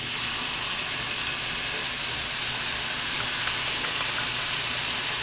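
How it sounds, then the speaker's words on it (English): Minced garlic hits a hot pan for a shrimp noodle stir fry, giving a steady, loud, hissing sizzle that stays continuous and close. "We're adding the garlic in, and then we're stir frying it"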